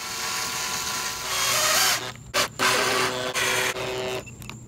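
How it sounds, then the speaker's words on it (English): A power drill drives screws into a door hinge in short whirring bursts, stopping and starting several times with brief gaps between runs, close and fairly loud. "Reinsert the screws, drilling through the matches, starting top to bottom."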